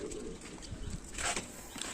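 Top-quality pigeons, in a pigeon-sale setting during rain, give soft low coos close by against a faint background hiss, with a brief higher chirp near the end.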